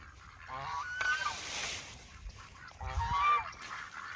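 Geese and ducks honking in a garden bed, a few separate bursts of nasal honks and calls, fairly close, with quiet gaps between them.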